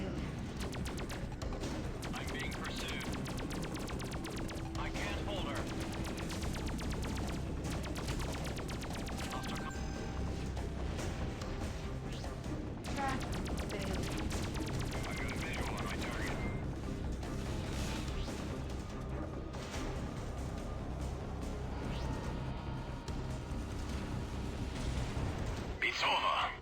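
Space combat in the video game Freelancer: rapid weapons fire and bursts of explosions run continuously over a dense backdrop, with voices talking throughout.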